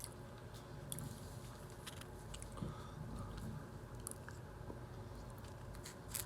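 Someone chews tasty food close to the mic in a quiet space, a soft patter of bites and crunches, faint and irregular, with small squishy mouth sounds between them.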